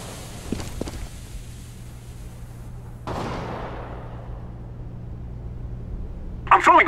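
A flashbang grenade going off in Counter-Strike during a competitive match, with a sharp single bang midway that fades into a long hissing ring, preceded by faint clicks and followed by a burst of noise at the end.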